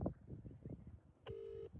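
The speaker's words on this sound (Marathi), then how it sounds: "आता आपण त्यांना फोन लावू" A mobile phone on a farm dials out, a steady electronic tone holding for about half a second after a stretch of outdoor background noise and faint voices.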